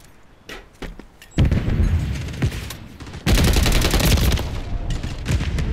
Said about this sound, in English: got shot through that wall there